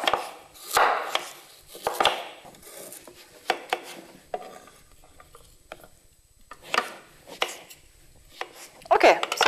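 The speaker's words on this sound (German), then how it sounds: "sind dabei noch die Kartoffel und die Karotten in ungefähr Daumendicke zu schneiden" Potatoes and carrots being cut into thumb-thick pieces for a Bavarian cabbage stew: sharp knife strokes against a cutting board come in irregular bursts separated by quiet pauses, close and fairly loud, with no talking.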